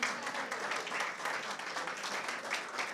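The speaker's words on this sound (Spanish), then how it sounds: "dale un aplauso al Señor" Church congregation applauding during a Christian sermon, a steady dense wash of clapping from many hands that stays even and sustained throughout, with no voices rising above it.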